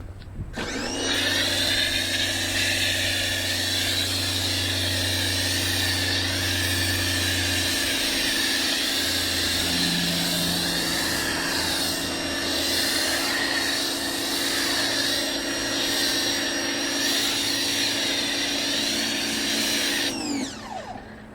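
Ryobi electric pressure washer at 1.2 gallons per minute spraying Turtle Wax snow foam through an MJJC foam cannon, a steady close hissing spray over a constant motor hum for about twenty seconds, starting and stopping abruptly.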